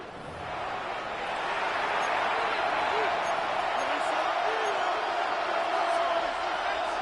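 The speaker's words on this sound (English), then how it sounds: "The crowd cranking it up another notch before 3rd and long." Football stadium crowd at a Cardinals at Cowboys game, a dense roaring wall of noise that swells louder within the first two seconds and then holds steady before a third-and-long play.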